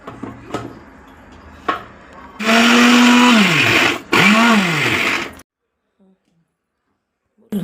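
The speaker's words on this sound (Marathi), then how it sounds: "आणि मीठ टाकून बारीक वाटून घ्यायचं मिक्सरला." A kitchen mixer grinder grinds garlic with salt in two loud whirring bursts separated by a short pause, the motor pitch dropping as each burst ends, with brief handling knocks before and after and near silence at the end.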